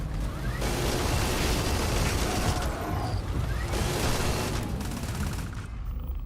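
Dense, continuous gunfire from a Starfield firefight, a steady loud barrage of overlapping shots and bursts with no clear gaps, holding close and full for the whole stretch.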